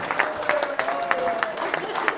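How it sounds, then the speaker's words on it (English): Wedding guests applaud in a room, a dense wash of clapping mixed with crowd murmur and a voice beneath it, lasting only a couple of seconds. "Give him a big round of applause, please"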